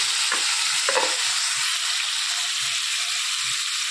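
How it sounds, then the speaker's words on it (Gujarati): Garlic, tomatoes, green chillies and onion frying with ajwain in a few spoonfuls of cooking oil give a steady, close hiss and sizzle, broken by a couple of faint stirring scrapes. "આના અંદર 3-4 પડી જેવું તેલ નાખ્યું છે, તેમાં અજમો નાખ્યો છે. આના અંદર લસણ, ટામેટાં, લીલા મરચાં અને ડુંગળી"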